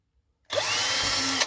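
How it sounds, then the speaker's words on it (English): A power drill bores holes, starting abruptly and running as a steady, loud whine for about a second before cutting off, with no talk over it. "and then drill some holes"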